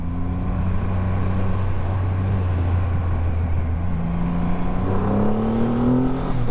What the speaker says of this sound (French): Mais c'est plutôt délicieux de rouler et d'évoluer avec cette Rocket.